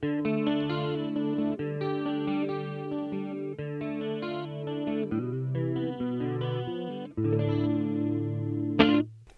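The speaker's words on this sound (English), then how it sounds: "And the neck on a clean sound" A 1970s Gibson electric guitar on its neck pickup with a clean tone plays sustained chords and notes, rich in effects and chorus shimmer, near and steady, ending in a brief sharp accent and fade.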